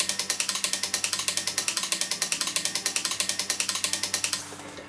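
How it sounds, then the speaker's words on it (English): A winder lets down a mantle clock mainspring, its ratchet clicking in a fast, even series of sharp close clicks that stop abruptly near the end, leaving a faint hum. "reverse the flow of the winder, very carefully let it down, because you don't want the spring to unwind too fast"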